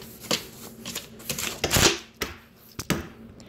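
Someone types on a computer keyboard in irregular bursts of sharp, close clicks and clacks, with short pauses between the flurries.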